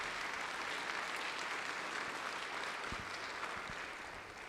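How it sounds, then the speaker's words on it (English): A crowd in a state House chamber applauds steadily, a dense wash of clapping that holds for several seconds and fades slightly toward the end. "Can we please give them a round of applause?"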